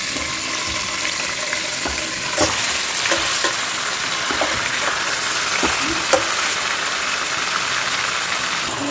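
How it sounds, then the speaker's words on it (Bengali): Marinated whole chicken fries in oil for biryani, giving a strong, even sizzle that carries on without pause. Soft spatter crackles and a few light utensil taps rise briefly above it. "চিকেনটাকে আমরা তেলে ভালো করে ভাজবো।"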